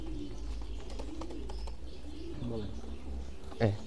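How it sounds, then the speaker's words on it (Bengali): Nepalese pigeons on a pigeon farm give soft, low cooing calls under a steady background hum, with a brief louder flutter near the end; a person speaks at times. "এই হচ্ছে আরেকটা নেপালিয়ান কবুতর"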